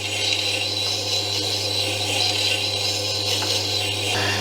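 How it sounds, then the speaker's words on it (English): Chisels having their primary bevels ground on a whetstone grinder give a steady, continuous rasping and grinding that runs without pause over a constant low motor hum. "So I'm going to get on now and grind all these chisels"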